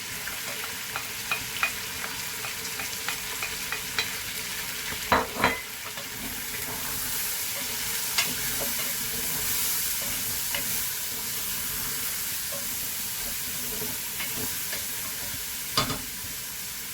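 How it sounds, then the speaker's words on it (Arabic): Chicken thighs frying in a pan with onion and garlic, a continuous loud sizzle with occasional sharp pops and the scrape of stirring, no talk. "هو الدجاج ديالنا تقلى، قلينا الدجاج ديالنا مزيان"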